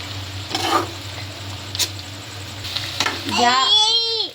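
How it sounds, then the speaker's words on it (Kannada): Garlic and cumin seeds fry in a pan on the stove with a soft, steady sizzle, punctuated by a few stirring scrapes and taps. A brief voice rises near the end. "ಬೆಳ್ಳುಳ್ಳಿ ಹಾಕಿ ಫ್ರೈ ಮಾಡಿ ನೆಕ್ಸ್ಟ್ ಜೀರಿಗೆ ಹಾಕಬೇಕು. ಅದನ್ನು ಫ್ರೈ ಮಾಡ್ಬೇಕು"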